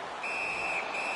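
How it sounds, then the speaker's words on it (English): Referee's whistle in the NHL 15 ice hockey video game on PlayStation 4, a single sustained high shrill tone of about half a second, followed by a short second blast over steady arena crowd noise. "Puck covered, whistle blown."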